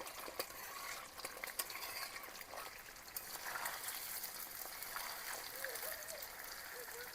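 Paneer pieces frying in hot oil, a steady low sizzle and bubbling hiss that runs continuously throughout, fairly quiet and close.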